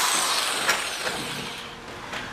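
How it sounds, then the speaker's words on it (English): A hammer drill grinds steadily into cinder block, a harsh, continuous, close-up roar with slight pulses in intensity. "I'll drill through the cinder block and put blue tap cons."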